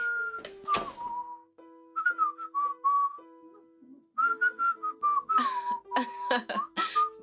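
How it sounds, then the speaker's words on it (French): A person whistles a cheerful tune close by, clear held notes with short slides, pausing briefly between phrases, over a few soft thumps and no talking. "Ok, pourquoi est-ce que tu sifflotes?"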